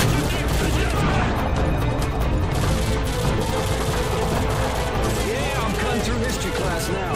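Loud, dense battle noise from Call of Duty: Modern Warfare 2, with sustained gunfire and explosive crashes, consistent with a grenade blast amid shooting, continuous throughout under a voice talking.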